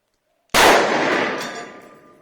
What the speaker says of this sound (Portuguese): Sequência de disparo, revólver 357 Magnum, 4 polegadas.